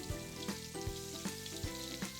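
Steady sizzling of strawberry fritters frying in hot oil, with soft periodic bumps and stirring sounds over the crackle.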